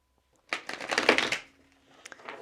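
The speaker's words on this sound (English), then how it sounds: "One more shuffle." A deck of tarot cards is shuffled by hand: a quick, dense riffling burst close up, then a pause and a softer patter of shuffling.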